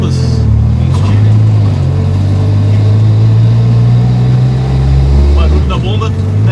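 Loud, steady engine drone with a low mechanical whine from a 1989 VW Gol 2.0 turbo with twin fuel pumps and a forged gearbox, running continuously and revving slightly near the end.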